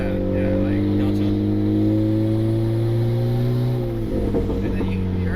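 A turbocharged Honda Civic R18 engine revs up, holding a rising tone for about four seconds, then drops off with a short hissing blow-off valve release, recorded close.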